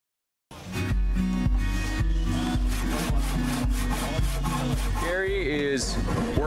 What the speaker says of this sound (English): We have to use a handsaw, but it builds character